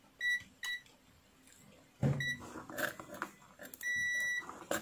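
A multimeter set to continuity mode, used to test an electric geyser thermostat through a jumper wire, gives several short electronic beeps, with two brief tones near the start and a longer steady beep later amid light handling noise.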